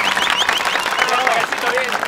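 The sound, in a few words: audience applause at a baby shower clown show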